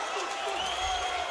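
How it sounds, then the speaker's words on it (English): Crowd at a grappling submission event cheering and applauding right after a tap out, a broad sustained roar filling the hall, steady in loudness with a commentator's voice riding over it. "And they're cheering all the way to the back here."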